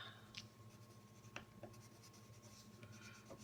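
Colored pencil scribbles across paper while drawing plant life beneath a simple sunflower, making soft, faint scratchy strokes in quick irregular bursts with no talking.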